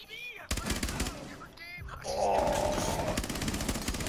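Gunfire in Rainbow Six Siege: a dense burst of shots with a clattering, sustained crackle, loud and close, mixed with other game sounds and brief voice.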